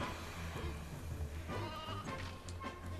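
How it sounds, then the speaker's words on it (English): Sheep bleating in the Toy Story 2: Buzz Lightyear to the Rescue video game, wavering cries over busy game music and background noise, moderately faint. "Let me go down and get the sheep."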